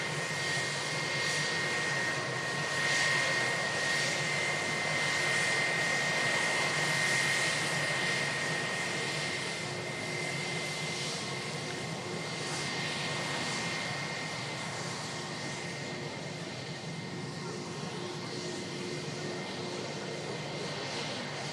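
Jet2 Boeing 757 taking off from runway 23 Right at Manchester Airport: a steady, distant jet engine roar holding level throughout with a thin high whine on top, no voices.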